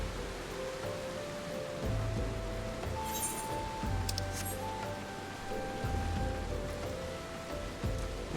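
Steady rain falls in the video game Final Fantasy XIV, a soft continuous patter that holds under a low musical score and a few faint chimes.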